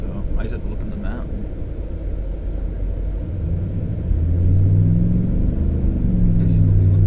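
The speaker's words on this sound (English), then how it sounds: "It's just not slippery, considering I'm actually spinning my tires in four-wheel drive" A four-wheel-drive vehicle spins its tires in snow during a 2015 Moncton, New Brunswick snowstorm. A low engine rumble swells and deepens partway through, with people talking over it.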